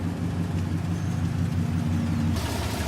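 A GMC Denali truck engine fitted with American Racing headers and a dual exhaust runs steadily at idle, a loud, continuous low rumble with no breaks and no talk.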